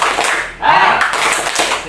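A group performs the rhythmic 'tepuk sehat' clap, a short run of close, loud hand claps over about two seconds, mixed with voices.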